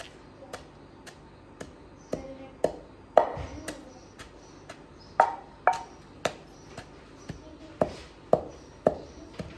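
Ground cumin and garam masala spices pounded in a kitchen, a steady series of sharp, close knocks about every half second, some strikes louder than others, with no talking.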